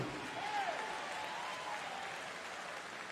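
An audience at a graduation ceremony cheers and applauds the graduates, a dense, steady wash of clapping and crowd noise that holds throughout.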